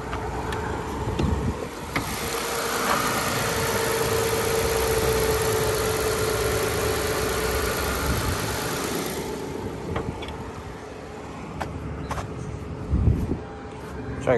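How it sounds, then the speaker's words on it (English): Engine of a 2005 Kia Amanti with about 150,000 miles idling under an open hood, a steady mid-pitched hum with a broad wash of noise over the first half that fades to a quieter idle, with brief knocks near the end. "Let's check out the engine real quick."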